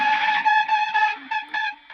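Haunting horror interface effect run through a Chelsea Classic amp model, a loud sustained tonal buzz pulsing in a series of short distorted swells before fading lower, alone without voices.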